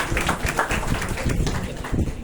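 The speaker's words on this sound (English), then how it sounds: "A round of applause for our principals." Audience applause at an IPR workshop, a steady dense patter of many hands clapping throughout, fairly close and moderately loud with no clear talk over it.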